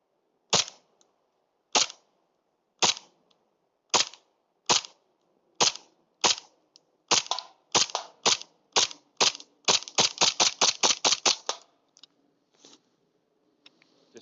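A John Wick 3 Combat Master pistol fires at a can in woodland: a string of sharp, close snapping shots, evenly spaced at first, then fired in a rapid burst of about a dozen before a couple of last pops.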